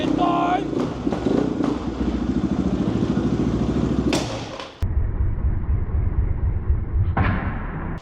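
A new Geon motorcycle engine, reported as having seized, runs steadily at a loud, continuous idle-like drone. A sharp cutoff and restart break the sound midway, and a brief rising rev comes near the end.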